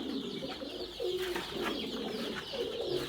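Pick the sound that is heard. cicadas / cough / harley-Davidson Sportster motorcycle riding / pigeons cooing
pigeons cooing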